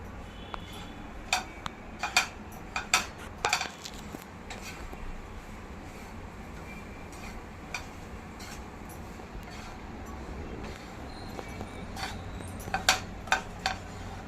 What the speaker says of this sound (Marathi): ते लो टू मिडियम फ्लेमवर आपल्याला हे खोबरं परतून घ्यायचं आहे